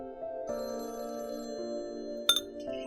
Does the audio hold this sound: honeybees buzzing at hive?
no